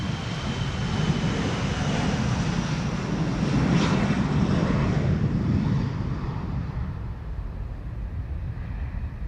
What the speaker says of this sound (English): This is KLM flight 1305 to Gdansk in Poland